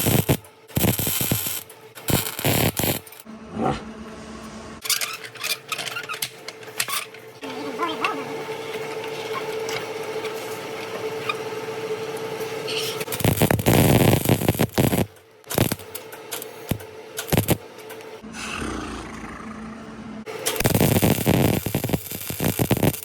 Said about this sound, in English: Alright, I got a tack. It's not the prettiest weld in the world